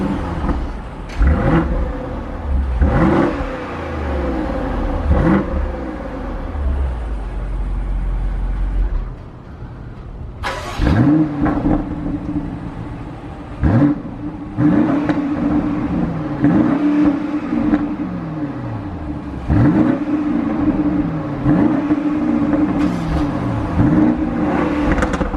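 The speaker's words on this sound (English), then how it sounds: "We gotta rev the two of them." Two BMW SUVs, an X5 and an X6, are revved repeatedly with their exhaust sounds, loud and close, in a series of rising blips and falling returns to idle, with a short quieter gap before the second run.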